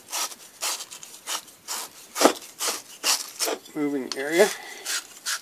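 Control sheave socket being scrubbed clean, a series of rhythmic rubbing strokes up close, bursts at a steady pace with a brief voice partway through.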